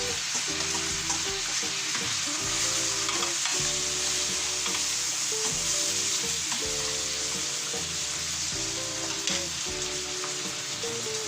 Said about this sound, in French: on va venir y plonger nos flageolets